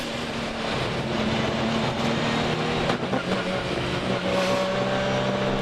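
Supercar Challenge race cars on a wet track at the race start roar together in a dense, loud engine drone, with rising revs and a few cars swelling past up close, no talk heard.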